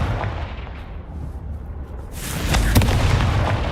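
Confringo blasting spell going off in Hogwarts Legacy: a loud, booming explosion with a rumbling, crackling burst that swells partway through and lingers.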